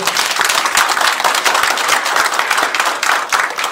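Delegates at an amateur radio league regional general assembly clap for an outgoing director, a loud, dense burst of close applause with rapid overlapping claps throughout.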